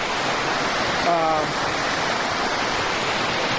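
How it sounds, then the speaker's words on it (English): A river flows right beside a campsite, a steady, close, broadband rush of water that runs unbroken the whole time, with a brief faint tonal sound partway through. "You're literally right here on the river."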